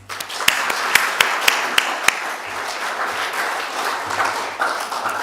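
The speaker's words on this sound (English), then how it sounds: "A big round of applause for our sponsors." Applause for the sponsors at the 2023 Wairarapa Māori Sports Awards: a room of people clapping steadily, a few sharp close claps standing out early, with a low hum beneath and some voices mixed in.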